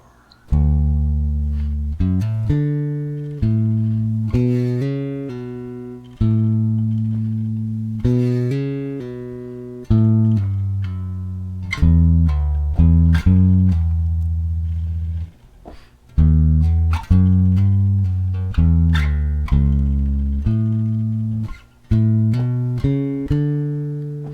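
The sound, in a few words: electric bass played with slurred notes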